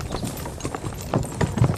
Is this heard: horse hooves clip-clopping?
yes